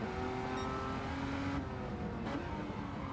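A street car races at full throttle on a circuit, the engine droning loud and steady, then braking as it nears a left-hand corner, heard close with no talking.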